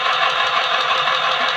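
A portable sewing machine runs steadily, a continuous close mechanical whir with a fast even hum and no pauses or talk.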